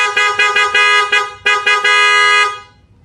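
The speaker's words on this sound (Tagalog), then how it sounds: "Busina tayo." A motorcycle horn honks repeatedly with its engine off, giving a series of short toots followed by one longer blast, loud and close with no talking.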